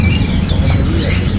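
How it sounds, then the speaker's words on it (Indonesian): A terucuk bird at a bird market calls with a few thin, high squawking notes over a steady, loud wash of background noise. "di sini ada yang namanya burung terucuk ya."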